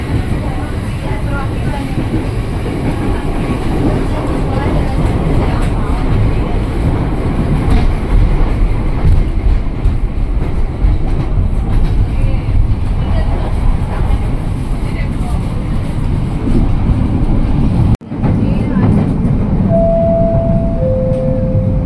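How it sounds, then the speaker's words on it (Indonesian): A long-distance KAJJ passenger train at an Indonesian station, a loud sustained rumble and rattle of railcars rolling past that fills the whole stretch, with a brief dropout and a faint tone near the end. "Wih, ada rangkaian KAJJ nih."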